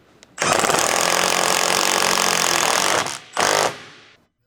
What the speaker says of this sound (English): Use a 22mm deep socket with a short extension bar and electric impact wrench to tighten the front control arm bushing mounting bolt.